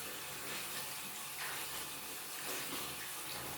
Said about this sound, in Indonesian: pertama bilas dulu pakai air mengalir